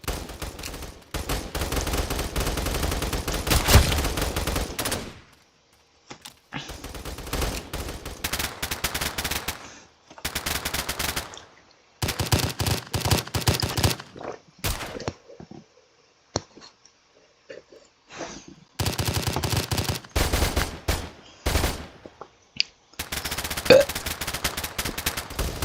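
Rapid bursts of pistol fire from a gamepass weapon in a Roblox shooting game, loud clusters of shots separated by short silent gaps, with a few quieter clicks between volleys.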